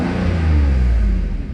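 A tuned Mercedes SL600 R129 roadster with a V12 revs up in a short, loud, deep surge of engine noise that swells and then eases slightly, with no voices.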